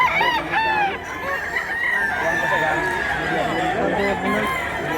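Roosters at a crowded fowl sale crow loudly in repeated calls while hens cluck throughout, with a dense murmur of people behind them.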